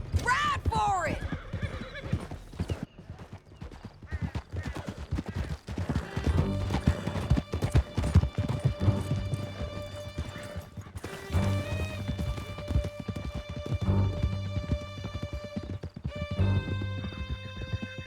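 Horses gallop at full speed through a canyon in Red Dead Redemption 2, their hooves drumming in a rapid steady rhythm and a horse whinnying loudly near the start, with music and voices speaking over the riding.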